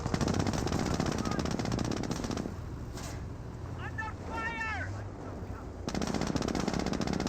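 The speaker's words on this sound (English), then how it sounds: "We got a Jeep trying to gun down an unarmed transport." A jeep-mounted machine gun in Company of Heroes fires long, loud bursts at an unarmed transport, pausing briefly mid-clip before resuming, with engine rumble and battle noise underneath.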